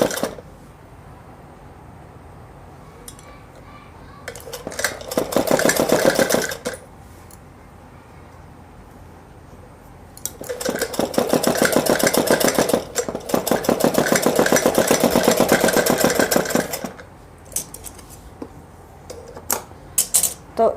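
A sewing machine stitches piping onto a small girl's simple frock, its rapid mechanical chatter running in two long bursts separated by quieter pauses with light handling clicks, close and fairly loud.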